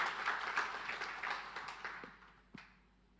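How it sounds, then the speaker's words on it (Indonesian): Applause for a minister at an online Indonesian polytechnic graduation ceremony, a fairly faint patter of clapping that fades out over a few seconds, followed by a couple of sharp knocks. "Sekali lagi mohon berikan tepuk tangan yang meriah untuk Bapak Edi Prabowo."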